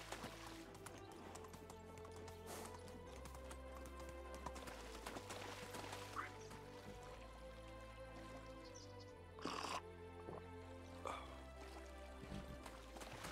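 Steady clip-clop of horse hooves in the video game Medieval Dynasty, with background music and occasional soft splashy effects; faint voices murmur underneath.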